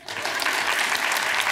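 Studio audience at a Swedish talk show applauding, a dense, steady burst of clapping that fills the whole moment at full loudness with no voices.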